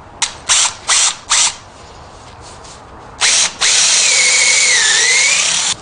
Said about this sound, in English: So now we're going to drill the second,